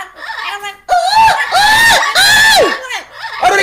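Parrots screeching loudly indoors, with a run of harsh, piercing calls that rise and fall in long bursts and brief pauses. Close and loud, with a person talking nearby.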